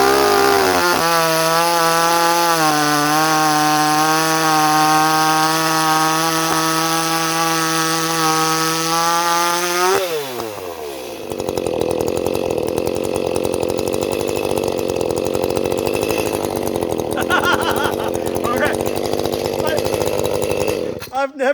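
Echo CS-310 chainsaw with a modded muffler, held at a high steady whine for about ten seconds, then dropping into the load of cutting through wood, running loud and close throughout.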